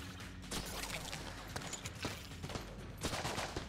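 Dense gunfire from bullets in Enter the Gungeon rattles in rapid, overlapping bursts, loud and continuous, with sharper clusters of shots near the start and the end.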